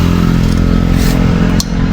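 A motorcycle engine being tuned up before a long ride runs loud and close at a steady idle, with a brief dip near the end.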